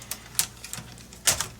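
A laptop keyboard pushed into place on a Lenovo ThinkPad T430 during a fan replacement: a few sharp plastic clicks and taps, close up, ending in one louder snap.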